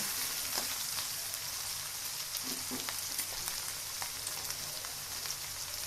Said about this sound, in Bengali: আগে পেঁয়াজগুলো খুব সুন্দর করে ভেজে নেব